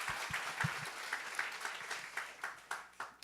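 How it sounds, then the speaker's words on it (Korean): A church congregation at a Korean-Japanese service claps in steady, rhythmic applause that fades slightly toward the end, with no voices over it. "感謝の拍手を捧げましょ"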